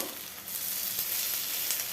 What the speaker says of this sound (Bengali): আমি আস্তে আস্তে সবগুলো আমি এপাশ ওপাশ করে ভেজে নেব।